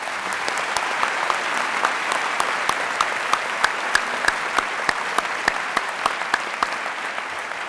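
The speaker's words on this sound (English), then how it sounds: "Please hold your applause until all are introduced." Audience at an academic convocation honoring Archbishop Desmond Tutu applauds as university regents are introduced, with steady, crisp clapping from a large crowd and sharper individual claps standing out near the front.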